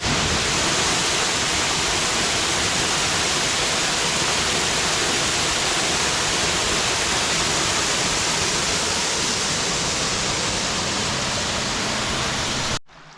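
Steady, loud rush of flowing water from Justice Creek along the Appalachian Trail in Georgia, a continuous broadband wash with no breaks, heard alone without voices until it cuts off abruptly at the end.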